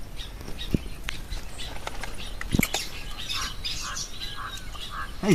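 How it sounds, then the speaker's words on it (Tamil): A peacock in a village, with bird calls and wing flaps spread over a steady outdoor background and a sharper cry near the end. "மண்டியில மயில் பறக்குது பாரு"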